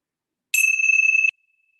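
A single small meditation bell rings once with a clear bright tone that sustains briefly, then stops, alone in silence.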